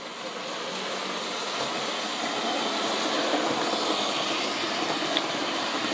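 A Lionel 2055 postwar magnet-traction steam locomotive from 1953, leading a freight set, runs on track with a soft, steady mechanical whir and rolling hum, faint and even throughout.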